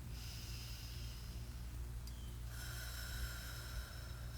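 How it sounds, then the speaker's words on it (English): A couple of slow, deep breaths drawn close to the mic at the start of a live stream, soft airy rushes over a steady low hum, with no talking. "Just going to take a couple of deep breaths as I'm going live"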